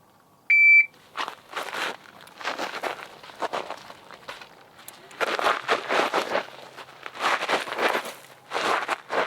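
A short electronic shot-timer buzzer sounds once near the start of a shooting drill, followed by rapid bursts of shuffling, clattering activity.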